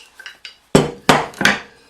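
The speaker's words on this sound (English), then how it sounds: "Brute force and ignorance, hammer and screwdriver." A hammer strikes a screwdriver to pry a fitting off, producing three loud, sharp metallic knocks after a few lighter taps, close and with no voices.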